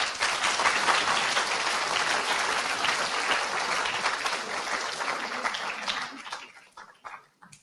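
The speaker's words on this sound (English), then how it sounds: "Could you give them a round of applause?" A school assembly crowd applauds medal winners, giving a dense, sustained wash of many hands clapping at once that fades out over the last second into a few scattered claps.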